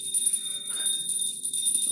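A hand bell rung during a Hindu puja prayer at home, heard as steady bright high ringing that continues throughout, with low household background noise beneath it.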